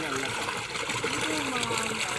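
Water runs along a field irrigation channel with a steady trickling, gushing flow, fairly quiet and close, while faint voices can be heard in the background.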